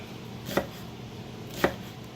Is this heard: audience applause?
no